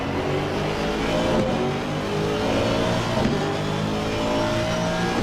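Aston Martin GT race cars drone steadily at high revs in the Assetto Corsa Competizione sim during a 24-hour race at Spa, a continuous loud engine roar with slight pitch shifts and no voices.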